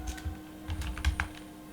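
Quick clicks of typing on a computer keyboard during statistics data entry, a short uneven burst of close keystrokes with no voices.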